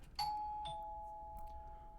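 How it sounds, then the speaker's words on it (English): A single two-tone doorbell chime at an apartment building door, a clear ding-dong whose second tone rings on and slowly fades, quiet otherwise. "I press the doorbell and immediately I hear muffled shouting on the other side."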